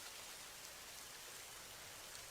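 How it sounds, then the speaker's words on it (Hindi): Steady rain falls outside, a dense continuous hiss at moderate level with no voices. "बारिश भी हो रही है।"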